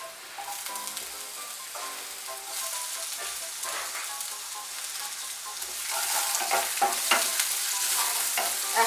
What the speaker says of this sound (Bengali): পেঁয়াজটা ভাজা হয়ে গিয়েছে, এর মধ্যে টমেটো কুচিটা দিয়ে দেব